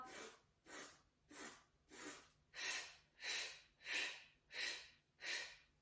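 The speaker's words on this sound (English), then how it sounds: "You're inhaling little sniffs, exhaling." During a beginners' Pilates breathing exercise, short nasal sniffs come one after another in a steady rhythm, about eight of them, close and fairly soft, with breathy hissing and no talking.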